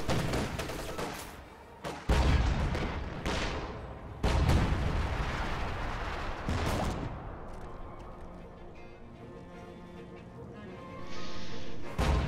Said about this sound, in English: This ISU is just shooting at this bunker